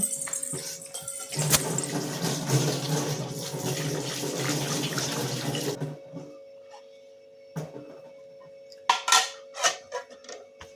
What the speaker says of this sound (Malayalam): പാത്രം കഴുകുകയാണ്.